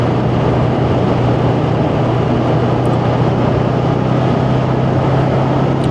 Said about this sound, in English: there is certainly plenty of torque off that 500cc engine